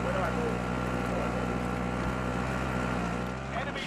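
Vehicle driving in Warzone VR, a steady droning engine hum with a constant low tone and rushing wind noise, holding at an even level throughout and easing slightly at the end.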